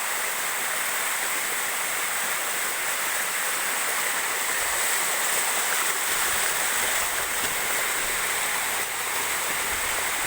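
Steady, loud rush of water pouring and splashing continuously into a fishpond, a constant broadband roar with no talking.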